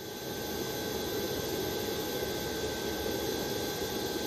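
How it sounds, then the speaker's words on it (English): An airport ground power unit generator in a simulation game runs with a steady, loud whooshing roar and a constant high whine, holding evenly throughout. "Select the highlighted Power On button. This starts the generator battery."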